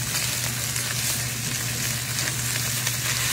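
Steady, close sizzle of salted chicken breasts frying in a pan, a continuous crackling hiss with a low hum beneath and no voices.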